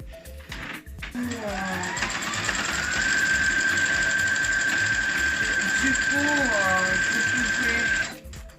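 A sewing machine runs steadily for several seconds stitching a double-sided satin and fabric beret, its motor hum loud and continuous, with a whining tone and a voice talking over it.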